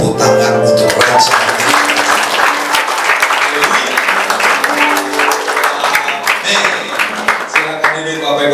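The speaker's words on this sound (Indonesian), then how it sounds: "Tepuk tangan untuk Raja" A church congregation applauds loudly through a Sunday worship service, dense steady clapping over music, with some voices and cheering mixed in throughout.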